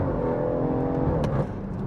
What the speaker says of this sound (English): The noise it produces and the way it crackles and runs down